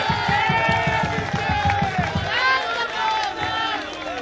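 A large crowd at a Telangana political gathering erupts in a welcome, with rhythmic clapping at first giving way to loud, sustained cheering and shouting voices over busy, continuous crowd noise.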